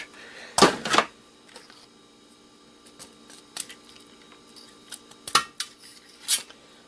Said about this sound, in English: A few more snips and we'll be done.